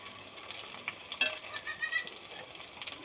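Battered pointed gourd fritters hit hot oil, giving a faint steady sizzle with brief bubbling crackles rising and falling, quiet and close.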